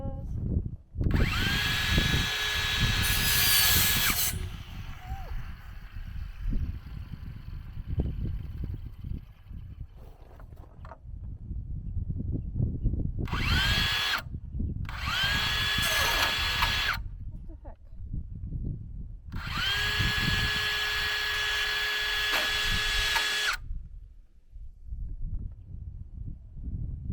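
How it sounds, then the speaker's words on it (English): A power saw blade cuts shed siding in several loud whining bursts, each a few seconds long, separated by quieter gaps of handling noise. "First time using a saw blade."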